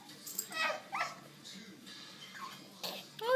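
A dog whimpers and gives short yips and barks in brief bursts, close by, with someone talking over it in a home setting.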